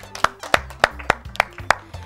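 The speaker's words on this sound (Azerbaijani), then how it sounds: "Alqışlar gəlsin Tunar üçün." Applause for a quiz show contestant who finished in fourth place: six sharp, evenly spaced claps, roughly three a second, close and fairly loud, with no talking over them.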